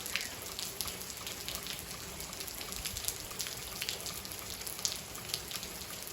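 Steady rain falls in Malvern, Arkansas on a September day, a soft continuous patter of drops hitting surfaces close by, with no voices.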